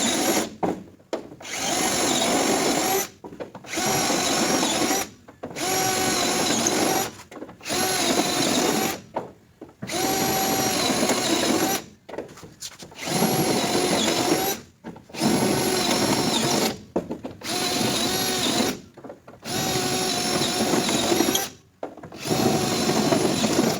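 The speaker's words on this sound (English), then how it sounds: "So when I drill the hole all the way through, the hole will already be there." A power drill bores holes through the outer steel rocker panel of a 1967-76 Mopar A-body Dart, loud whining bursts of a few seconds each repeating with short pauses between, close and unaccompanied by talk.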